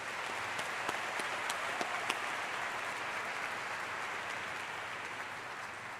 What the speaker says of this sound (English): Let's have a round of applause for all of those dedicated individuals.